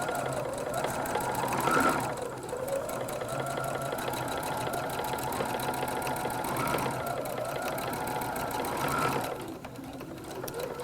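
A sewing machine stitches a tote bag seam in close, steady runs of fast mechanical chatter, with brief slowdowns and a pause near the end.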